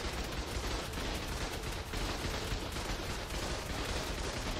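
Gunfire in the ARK survival video game, a dense, continuous barrage of rapid shots blending into a rough roar, loud and close for the whole stretch, with no talk.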